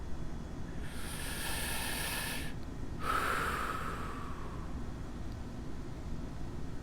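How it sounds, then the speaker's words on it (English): Two deep breaths taken during a quiet guided prayer, each a soft airy inhale or exhale lasting about a second and a half, close and clear over a low steady room hum, with no talking. "take a few breaths"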